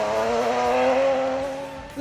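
A rally car in the Super Modified class drifts at SOL Rally Barbados 2017, its engine holding a loud, steady tone blended with sustained tire squeal that swells slightly before a sudden jump at the end.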